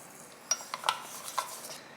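A spoon mixes sliced onion and chili into a seasoning sauce of anchovy fish sauce, oligosaccharide syrup and sesame seeds for perilla leaf kimchi, giving a few soft, scattered clinks and scrapes against the bowl, faint and close.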